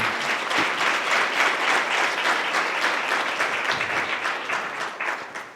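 Loud, dense applause from a seminar audience for a folk music party led by Mukhiram ji at a Nari Shakti event in Dhar, sustained at steady intensity throughout before easing slightly at the end.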